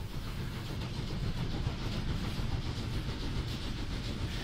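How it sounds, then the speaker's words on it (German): A TT scale model locomotive runs along model railway track, switching from main line to branch line, giving a steady, continuous close-up rumble and whir that holds level throughout, with no talking. "Jedoch kann die Lok von der Hauptbahn direkt auf die Nebenbahngleise überwechseln."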